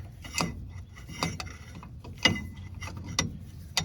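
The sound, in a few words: unscrewing inner tie rod from rack and pinion steering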